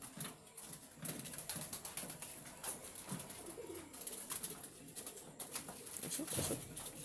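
Pigeons on a pigeon farm coo in soft, repeated low calls, several birds overlapping at close range, with occasional wing rustles and scuffs in the background.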